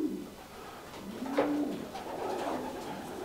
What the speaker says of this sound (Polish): To jest jedyny taki gołąb w Polsce.